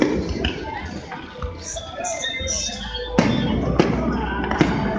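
Independence Day fireworks over Uptown Charlotte, North Carolina, on July 4th 2018 go off as a run of sharp, distant booms and crackles amid a murmuring crowd and scattered voices.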